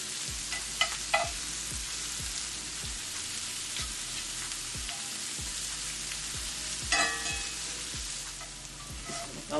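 Onions and mushrooms fry in butter in a pan, a continuous crackling sizzle with repeated soft scraping stirs at a regular pace, heard up close without any talking.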